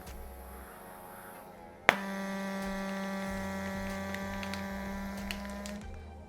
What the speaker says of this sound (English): I'm going to grab my handheld vacuum sealer and I'm going to just use it gently and keep pulsing it